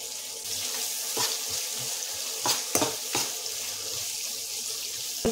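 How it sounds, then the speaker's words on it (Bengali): Chopped onions hit hot oil in a pan for a country chicken curry, giving a steady close sizzle broken by several sharp crackles and clatters of stirring. "কুচানো পেঁয়াজগুলো এই গরম তেলের মধ্যে দিয়ে দিচ্ছি।"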